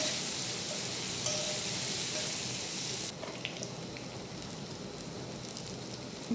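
Spice masala for aloo chop sizzles in hot oil in a pan, a close, steady crackling hiss that softens partway through, with occasional stirring clinks.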